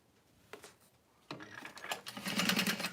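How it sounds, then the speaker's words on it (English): A sewing machine back stitches through fabric while a small bag is sewn; after a quiet start and one brief tap, a fast, steady mechanical chatter starts and grows louder, running close and continuous to the end. "So holding that in place, back stitching."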